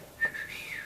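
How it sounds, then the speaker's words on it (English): A brief human whistle used as a secret code signal, a single short rising then sliding note, faint and alone. "that's our secret code whistle to each other"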